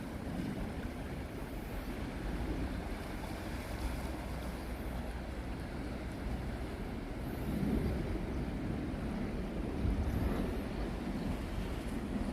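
Waves roll in steadily along the Aewol seashore on Jeju, a broad continuous wash of surf mixed with wind rumbling against the microphone, swelling slightly twice, with no voices.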